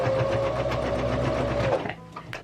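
A sewing machine runs a steady, close stitching burst while closing a hole in a plaid skirt, humming evenly for about two seconds before stopping abruptly.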